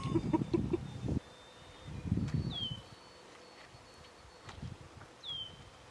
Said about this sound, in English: You can hear bird song,